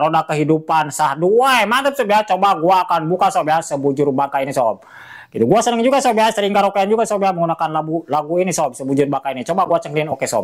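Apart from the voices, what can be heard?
No everyday noise stands out behind the speech.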